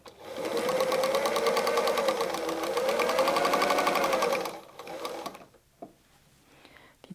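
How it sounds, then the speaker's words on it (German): Sewing machine stitching a seam with seam allowance on patchwork fabric from jelly roll scraps, a steady loud whirring run for about four and a half seconds, then stopping, followed by a few soft handling clicks. "nehmen das mit zur Nähmaschine, richten das ganz genau aus und wir nähen das einmal mit unserer Nahtzugabe ab."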